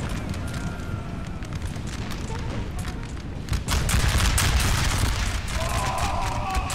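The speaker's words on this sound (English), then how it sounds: "Right now we've got the rockets here firing on the Polska cavalry" Rockets fire at cavalry in the Napoleon Total War video game, a dense, continuous battle roar with rumbling booms and crackling volleys that grows louder toward the end, with no voices over it.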